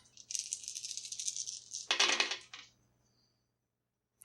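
Dice for a tabletop role-playing game rattle and clatter for about two seconds, then tumble to a stop in a final burst of clicks before falling silent.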